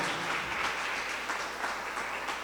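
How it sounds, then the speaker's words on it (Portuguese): A church congregation applauds loudly and continuously, a dense steady wash of many hands clapping at close range without pause. "Vamos aplaudir bem forte a Jesus, que Ele merece"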